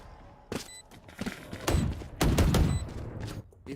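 Gunshots from a shooter video game: a few sharp single shots followed by a heavier, sustained burst of fire, loud and close, with no talk.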